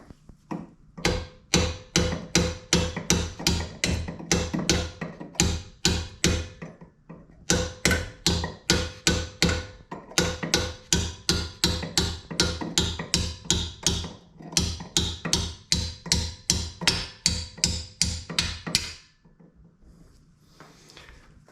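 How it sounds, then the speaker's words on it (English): Repeated sharp metallic taps while fitting a red brake caliper on a 996-generation Porsche 911, a long steady series of close, evenly paced hammer strikes with a short pause midway, stopping near the end. "Now I'm just going to have to tap it in."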